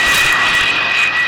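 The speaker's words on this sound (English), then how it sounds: "And they send these planes off to ship like clockwork." A loud, steady roar of an airplane engine as planes launch from a ship's deck, a sustained whine and rumble that fills the whole moment with no voices.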